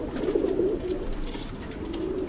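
A pet pigeon coos softly in low repeated murmurs over steady background hiss and rustle, close by.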